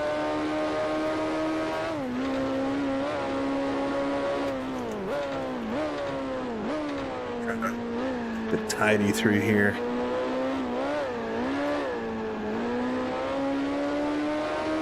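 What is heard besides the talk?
Maserati race car engine accelerating, video game Grand Prix Legends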